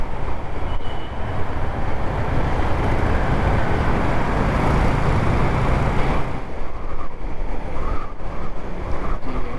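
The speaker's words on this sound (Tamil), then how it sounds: "பெங்களூர் டிராஃபிக்." Dense, steady roar of Bangalore road traffic from a moving motorbike, with wind rush and engine noise blended into one loud, unbroken wash throughout.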